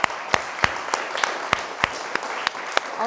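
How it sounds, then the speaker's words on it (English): A congregation applauds the band at a morning service, steady clapping with distinct individual claps popping out of the mix, fairly close and sustained. "Let's give them a round of applause."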